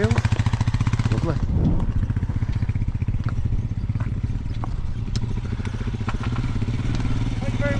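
Royal Enfield motorcycle engine idling close by on a Yorkshire Dales fell road, a loud, steady thumping single-cylinder beat running throughout, with people talking over it.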